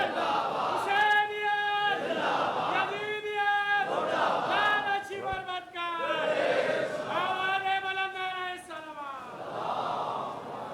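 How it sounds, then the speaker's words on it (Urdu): A large crowd at a majlis loudly chanting salawat in unison, repeated rhythmic swells of many voices rising and falling, close and strong throughout. "جتنی زور سے انہوں نے نعرے کا صلوات کا کہا ہے"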